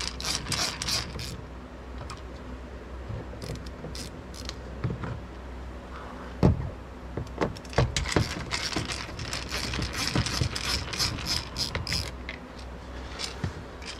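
Torx 20 screws are unscrewed behind the chrome trim of a Corsa D VXR door card, with close, soft ratcheting clicks, creaks and scattered small plastic ticks coming in irregular bursts over a quiet background.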